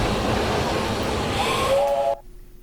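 A steam train crossing a bridge gives a steady loud hiss with a shrill whistle tone rising near the end, then it cuts off abruptly to near quiet.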